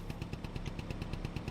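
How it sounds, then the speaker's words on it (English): A small two-stroke engine in the video game Farming Simulator 25 putters steadily at a rapid, even pulsing idle, loud and close, with no talk over it. "it's a little two-stroke engine"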